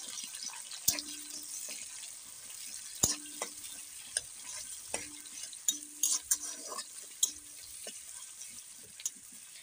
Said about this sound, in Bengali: 1 বাটি পরিমাণ কুচনো পেঁয়াজ ওই তেলের মধ্যে দিয়ে ভালো করে ভেজে নেব